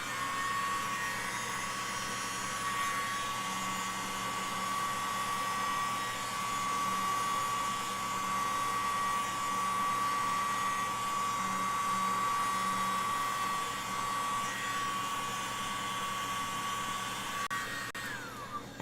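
A hair dryer blows steadily on a freshly painted ornament, giving a loud, close, continuous whirring hiss with a faint whine that runs unbroken almost to the end.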